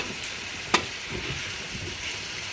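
Onions frying in a pan give a steady, soft sizzle that runs throughout, with one sharp clank of a utensil early on.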